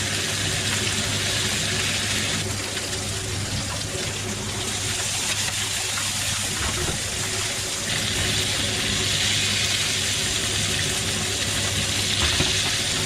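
Snakehead fish fillets pan frying, seasoned with salt and black pepper, give a steady, dense hiss and crackle of hot oil that runs throughout, close and fairly loud, with no talking.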